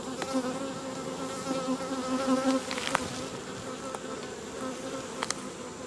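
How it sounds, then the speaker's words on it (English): Dense, steady buzzing of many bees around a hive during an inspection, a continuous drone with individual insects passing near now and then. "having a lot of bees in the hive"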